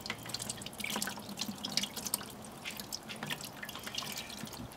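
Tap water runs and splashes over salmon as salt and sugar are rinsed off outdoors, a faint, continuous trickle with irregular drips and splatters.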